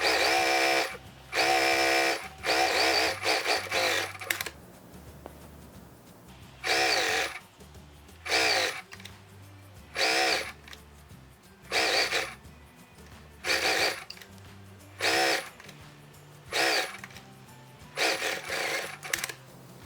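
A sewing machine runs in repeated short bursts on cotton fabric, set to a long stitch to gather it, each run a couple of seconds long with brief quiet gaps between, close and clear with no talking.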